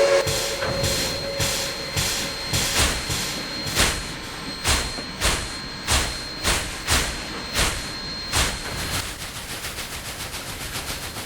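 Pennsylvania Railroad steam locomotive pulling away with its train, loud rhythmic chuffs of exhaust steam at a steady beat amid continuous hiss, gradually quickening and fading as it departs.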